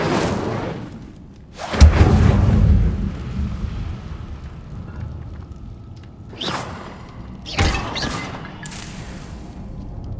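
Fire spell cast in the Hogwarts Legacy video game, a sudden whooshing burst that swells into a rumbling roar, followed by further bursts and whooshes over a low ambient bed.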